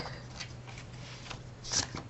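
A deck of cards is shuffled at a tabletop ritual setting, producing soft riffling rustles in several bursts with a sharper flurry near the end, faint and close over a low steady hum.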